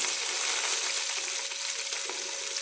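Onions are sautéed in a pan with cinnamon and cloves, giving a steady close sizzle with faint scraping from stirring throughout.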